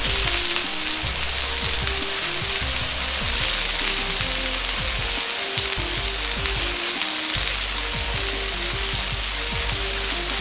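Sugar water for candied sweet potatoes is stirred with the bottom of a ladle in a pan over medium heat, giving a continuous dense hiss with a rapid run of scraping, clicking strokes throughout.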